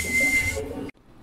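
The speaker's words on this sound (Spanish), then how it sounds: "ya que es una flauta, suena comúnmente como un chiflido" A tlapitzalli, a Mesoamerican flute, sounds a single steady high whistling tone with a breathy edge, close and clear, then cuts off abruptly into near silence.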